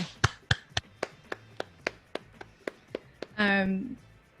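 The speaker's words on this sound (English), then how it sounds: "round of applause for Amber" Sparse, evenly spaced claps at a WordCamp Los Angeles live wrap-up show, each crisp and distinct with gaps between, ending with a short voiced sound.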